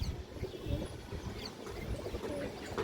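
Young dobash pigeons of a rising line coo softly in a loft, low murmuring calls repeating irregularly at close range over quiet background rustle, with no talking.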